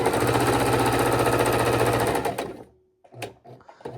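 A domestic sewing machine quilts a scrappy raw-edge appliqué Valentine's table runner, running in a steady loud mechanical chatter for about two seconds before it stops. A few faint handling clicks and taps follow.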